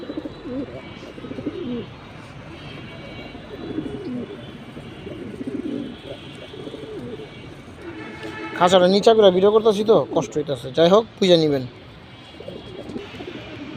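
Jabra pankhi pigeons, including a deep-eyed squab, coo softly inside a low cage while someone talks over them, with a denser, louder stretch of close bird sounds partway through.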